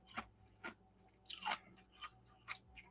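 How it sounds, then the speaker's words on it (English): Crunchy ice being chewed, a handful of crisp crunching bites spaced about half a second apart, close and fairly quiet, with no talking. "Crunchy ice."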